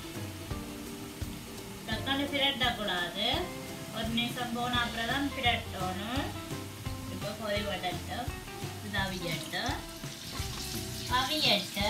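Mothaham dumplings sizzle and crackle in hot oil with a steady bubbling hiss, while a voice talks over the frying throughout.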